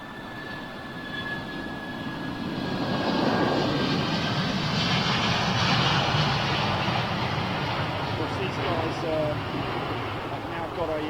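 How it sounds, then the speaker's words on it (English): Airbus A220 jet engines howl as they spool up at London Heathrow, a steady, loud whining roar swelling and holding near the listener, with a voice talking over it. "Great looking jetliner, man. So you might hear a little bit of a howl as she spools up."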